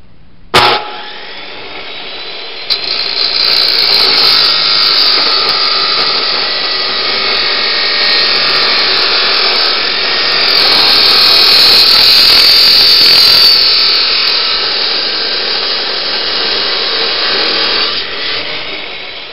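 A saw cuts steel stock for a welding table build, a loud continuous grinding-rasping hiss that begins with a sharp start and holds steady for nearly twenty seconds before stopping, close up and without speech.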